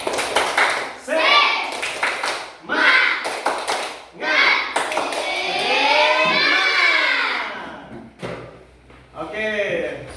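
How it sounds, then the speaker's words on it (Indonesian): Classroom children doing a rhythmic spirit clap, bursts of quick patterned hand claps alternating with loud group chanting, repeated in several rounds and fairly close. "kita tepuk semangat dulu ya"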